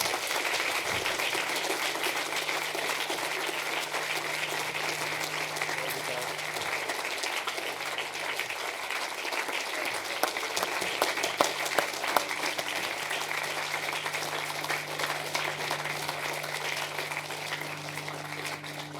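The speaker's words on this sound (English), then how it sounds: "Let's give her a round of applause." Sustained applause from the audience at a school speech day at St Faith's School, a dense, steady clapping that carries on evenly for about nineteen seconds with a faint low hum beneath.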